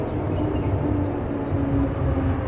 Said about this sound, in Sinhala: අනිත් පැත්තට යන මෙට්‍රෝ එක යනවා